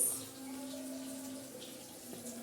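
Water pours in a steady, soft stream for a couple of seconds, fairly quiet and close by, into a pan of cooking liver to make a sauce.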